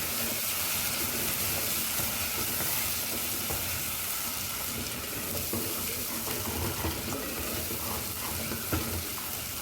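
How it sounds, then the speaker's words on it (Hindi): Red chili masala fries in hot oil over a low flame for a Hyderabadi mutton khorma, a steady close sizzle and crackle with stirring scrapes running throughout. "keep the flame on low because this will crackle"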